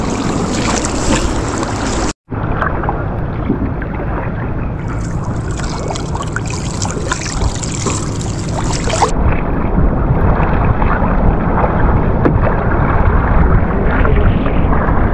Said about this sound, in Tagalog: Yung bangka na dumaan yun, ano yun, papuntang Calagos Island.